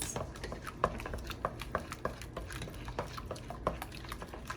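Banana bread batter being mixed in a bowl, with soft irregular taps and scrapes of a utensil against the bowl, fairly quiet and close, with no voices.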